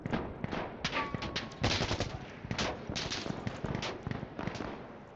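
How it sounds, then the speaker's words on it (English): Rifle fire in the shooter game Insurgency Sandstorm, rapid bursts and single cracks of gunshots in uneven clusters, loud and close with sharp echoing reports. "I just dumped 20 rounds into that guy."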